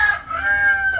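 A rooster lets out a single loud, close crow that rises and holds briefly before fading.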